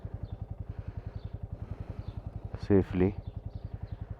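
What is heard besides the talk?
motorcycle engine idling after cold start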